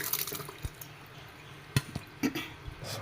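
Soaked rice being washed in a pot or bowl of water, with soft sloshing and a few short splashes and drips, fairly quiet and unaccompanied by talk.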